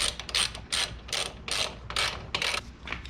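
Ratchet wrench tightening a bolt on a Honda Grom rear set, sounding as a series of loud, close, rhythmic ratcheting bursts, about seven strokes with brief pauses between them, no talking.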